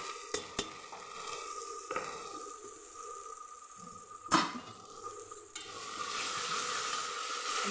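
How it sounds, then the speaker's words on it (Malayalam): Egg curry with gravy masala is stirred in a pan, a soft low sizzle broken by a few sharp spoon-on-metal knocks and scrapes, fairly quiet and without talk. "ഇനി നന്നായി ഇത് ഒന്ന് ഇളക്കി കൊടുക്കാം."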